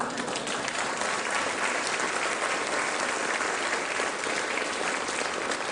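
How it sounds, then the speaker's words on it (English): A television studio audience applauds during a talk about the US government shutdown, a dense, even wash of clapping that stays loud and unbroken throughout. "that's your first round of applause for anything political"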